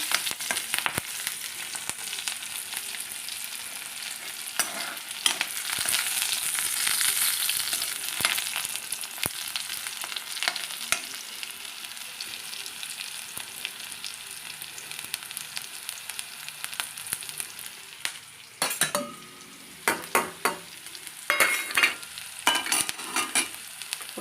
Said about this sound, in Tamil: பச்சை மிளகாவும் இஞ்சியும் கொஞ்சம் லைட்டாக ஃப்ரை பண்ணி வச்சுக்கிறேன்